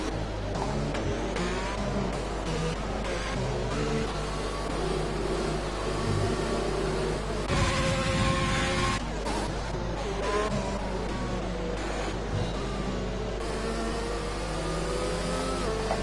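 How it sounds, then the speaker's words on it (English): A racing car engine runs roughly during a race in Italy, a busy mix of engine drone and revving with uneven surges and a louder burst partway through, continuous throughout with commentary-like talk underneath. "What's going on with that engine? That doesn't sound healthy."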